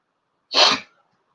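A single sharp sneeze, close and brief, bursting out of silence and fading quickly.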